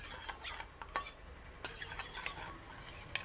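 A spoon stirs and scrapes a face pack mixture with added vitamin E in a small bowl, giving faint, intermittent clinks and rubbing strokes close by.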